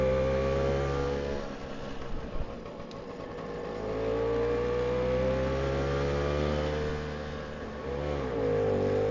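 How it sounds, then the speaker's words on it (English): The small engine of a 1962 Lambretta Li 150 Series 3 scooter drones steadily and strains climbing a steep hill, its pitch rising and dipping as it labors along, heard up close with no voices. "this is the first really steep hill I've done on the scooter"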